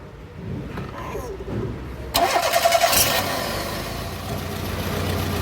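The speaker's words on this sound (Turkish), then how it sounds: "bas bakalım marşa" A car's starter cranks after a short lull, a fast rhythmic churning that holds for about a second before the engine settles into a running drone, with faint voices nearby.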